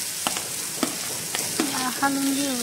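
Small potato pieces with pav bhaji masala being stirred on a hot pan, sizzling with several scraping strokes of a spoon, close and clear, no voices.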